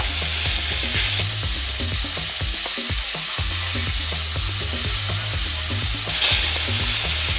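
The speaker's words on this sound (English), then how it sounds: "we're going to go ahead and just make sure that we're browning everything evenly" Taco filling browns in a very hot pan for high-protein supreme tacos, giving a steady loud sizzle broken by repeated scraping, rhythmic stirs with a spatula, with no talking.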